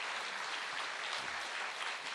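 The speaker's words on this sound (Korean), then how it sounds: "여러분 힘차게 박수로 격려해 주시고 축하해 주시기 바랍니다." Korean church congregation applauding in celebration, a thick, continuous wash of many hands clapping at full strength throughout, loud and close.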